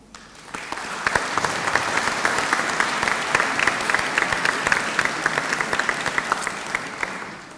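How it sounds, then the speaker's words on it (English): Audience at an LIT design graduation conferring ceremony breaking into a big round of applause, starting abruptly and building to a dense, sustained clapping that fades near the end. "be really grateful if you give them a big round of applause"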